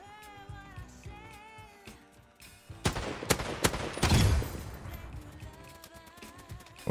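Gunfire in the video game Blitz Arena, a cluster of sharp shots and a short rapid burst in the middle, set between stretches of game music and effects.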